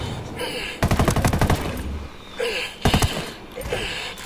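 Bursts of rapid gunfire in Ghost Recon Wildlands, a loud automatic volley near the start, quieter shots in between and a second short burst later, with no talk over them.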